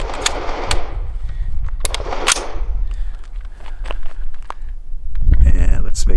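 An Armalite AR-180 rifle fires its last magazine in several loud, close shots over the first seconds, followed by quieter handling noises and a rising rustle.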